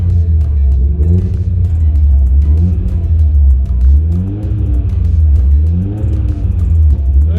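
A Mitsubishi Evo X engine runs loud and close, idling with a deep rumble and repeatedly revving up and settling back in rising and falling sweeps.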